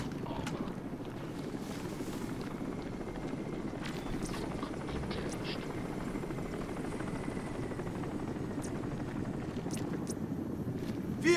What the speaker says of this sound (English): Aircraft spotted!